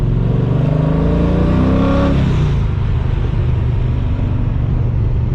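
An LS-swapped Nissan Silvia accelerates hard on a test drive. The loud engine note climbs steeply in pitch for about two seconds, then drops at a gear change and settles into a deep, rough drone close by.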